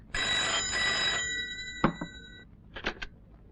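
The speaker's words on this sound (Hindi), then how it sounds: "विजय का फोन है, कह दो कि मैं नहीं हूं।" A telephone bell rings in one long electronic burst, followed by a couple of short clicks and a brief clatter as the handset is picked up.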